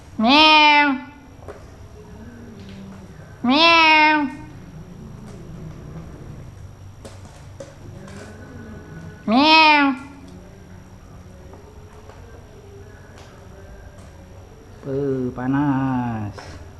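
Cat meowing beside people eating KFC fried chicken, five separate clear meows spread over the stretch with quiet pauses between them, the last one drawn out, close by.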